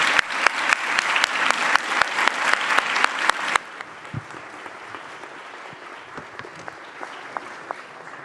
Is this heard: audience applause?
yes